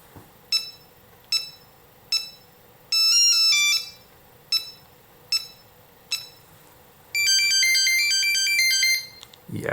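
Classic Nokia 3310 mobile phone ringtones play in turn: repeated short bright beeps in an even pulse alternate with two quick monophonic melodic runs, loud and close over a steady low hum.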